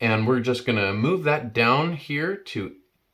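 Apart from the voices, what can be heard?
No everyday noises stand out.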